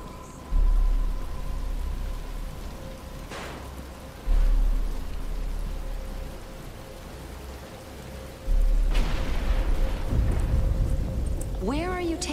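Steady rain falling in Batman: Arkham Asylum, a continuous wash of patter with low rumbles that rise at intervals, while voices speak over it.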